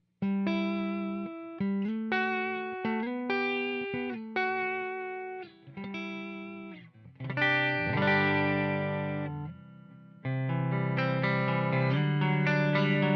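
The neck pickup of a Telecaster electric guitar gives a warm, round tone, playing a melodic line of picked notes, then a stretch of ringing chords, up close with no voices.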